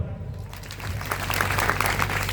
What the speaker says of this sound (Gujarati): સાહિલ માટે તાળી પડો